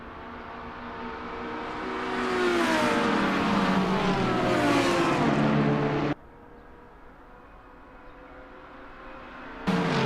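GT3 race car engines, including a McLaren 650, race at Watkins Glen in the Assetto Corsa game. A loud, high engine whine climbs and sweeps in pitch, cuts suddenly to a quieter hum, then briefly surges back at the end.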